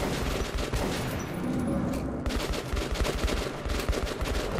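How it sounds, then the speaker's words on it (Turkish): Allied gunfire in the video game Metro 2033 Redux bursts in dense, rapid volleys, loud and continuous. There is a brief lull partway through before the shooting resumes at full intensity. "Çocuklar bayağı sıkıyorlar, güzel."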